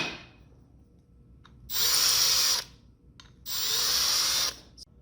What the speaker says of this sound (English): I take a chamfer tool and I like to break the sharp edge inside all the bolt bores.